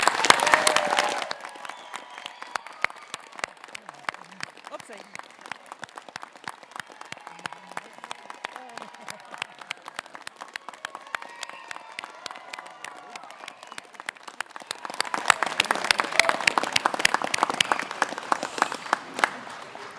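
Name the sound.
audience applause at graduation ceremony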